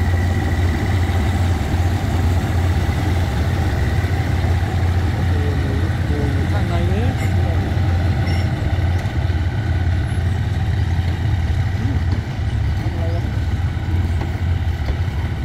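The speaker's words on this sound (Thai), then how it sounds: "นี่ก็พ่วงรถดีเซลรางนำส่ง เข้าสู่ย่าน LD นะครับ" The GEK 4005 locomotive hauls diesel railcars slowly into a rail yard, its heavy diesel engine holding a loud, steady low idling rumble throughout with faint mechanical squeals above it.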